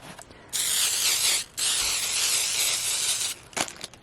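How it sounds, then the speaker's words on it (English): Two long bursts of spray glue hiss up close onto a heart-shaped craft piece, broken by a brief pause, followed by a couple of short puffs. "I'm going to take the spray glue, spray it all over the heart,"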